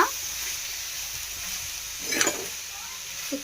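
Greens palya being stirred in a hot pan with grated coconut, a steady soft sizzle of frying punctuated by a couple of brief scraping stirs of the spoon against the pan.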